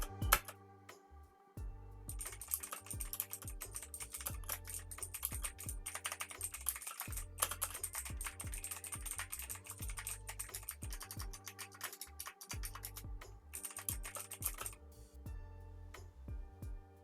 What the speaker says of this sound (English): I will be using my headset mic to record the keyboard